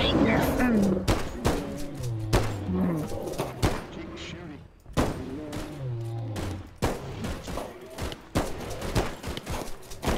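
Rapid gunfire crackles in a Bigfoot video game, with sharp shots in quick volleys repeating throughout while people talk loudly over them.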